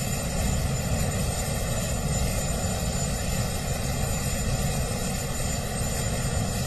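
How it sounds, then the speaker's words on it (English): Marine One helicopter rotors and engine at the White House during the 2025 presidential inauguration, a loud continuous whine and rumble that holds steady throughout, with no voices. "I can't imagine the helicopter's rotors with the wind whipping up are going to feel very good coming up here."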